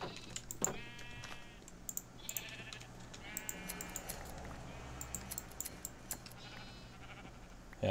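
Minecraft sheep bleat faintly and repeatedly in a tundra village, short wavering baas scattered over a steady background hum with frequent keyboard clicks and light game noises.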